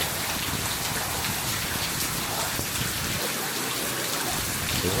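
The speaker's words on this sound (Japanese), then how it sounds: "すごい雨。" Heavy rain pouring down at a hot spring inn with an open-air bath at Unzen Onsen in Nagasaki, a loud, dense, unbroken hiss of rainfall close by, no voices.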